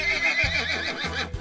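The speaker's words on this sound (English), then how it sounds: "Here we have a light brown horse" A light brown horse gives a loud, close whinny, a shaky high neigh that runs nearly a second and a half with a brief dip partway through.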